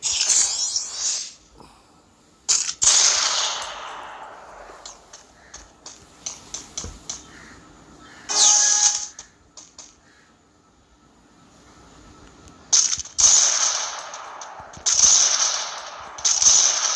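Sniper rifle shots in a video game, several sharp cracks spread across the stretch with quieter mechanical clicks and ticks between them, loud and close, with no talk.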